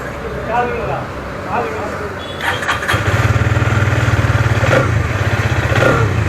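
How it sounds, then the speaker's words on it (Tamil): A Hero Xtreme 250R motorcycle engine turns over and catches, settling into a rapid, throbbing idle with throttle blips while a person talks over it. "ஒரு ஹை பவர் சிசி பைக்கோட சவுண்டு மாதிரி இருக்குது."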